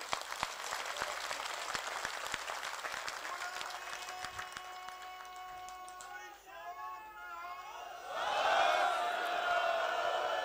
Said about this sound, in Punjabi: ਠੋਕ ਕੇ ਤਾੜੀ ਮਾਰੋ ਪਹਿਲੇ ਪੜਾਅ ਦੀ